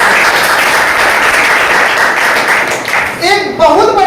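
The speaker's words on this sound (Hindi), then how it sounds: "एक बार जोरदार ताली।" Loud, dense applause from a seminar audience fills the room steadily, with a voice beginning to speak over it near the end as the clapping thins.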